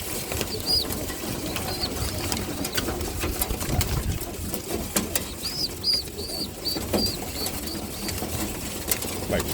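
Birmingham Roller pigeons scramble and flap their wings inside a loft of young kits, a busy run of close wingbeats under steady background rustle, with brief higher chirps in the second half.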